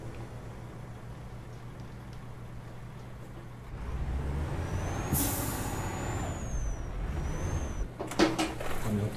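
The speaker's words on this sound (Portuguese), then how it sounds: "Tá segura no freio." A truck's air brake hisses in Euro Truck Simulator 2 while the rig is held on a descent, a steady engine drone under a sharp rising hiss and squeal midway, then short bursts of air near the end, with no talk.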